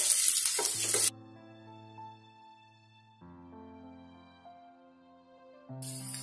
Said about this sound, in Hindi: आलू को हम करीब 3 से 4 मिनट तक गर्म घी में इसी तरीके से चला लेंगे